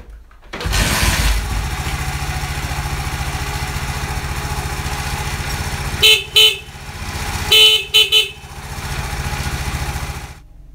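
A single motorcycle horn wired through a capacitor, with the bike running, sounds in several short bursts: two or three quick toots near the middle and end over a steady idling engine hum, close and loud, with no talking.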